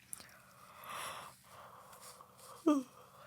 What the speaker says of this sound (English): Yawn break.